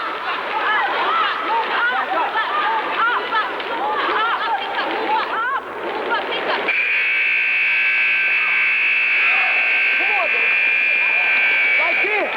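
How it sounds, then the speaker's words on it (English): A long, steady electronic buzzer sounds at a 1989 Double Dutch jump-rope championship, marking the end of a timed round. It cuts in over loud crowd chatter and rope-skipping noise and holds to the end. "The buzzer signifies the end of the 55 seconds"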